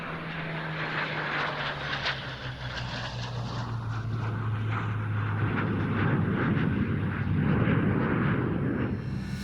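Supermarine Spitfire in No. 402 Squadron markings flying a display at the Royal International Air Tattoo 2024, a steady loud engine drone and roar building slightly across the pass, without talk.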